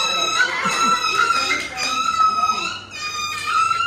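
A child imitates a dog with voiced yips and whimpering howls, several rising and falling cries over a few seconds, close and clear.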